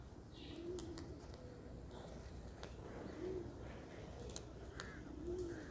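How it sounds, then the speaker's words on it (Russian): Soft, low pigeon coos repeat three times at a slow, even pace, distant and faint outdoors under a steady background hiss, with a few faint chirps between. "Это голубочка."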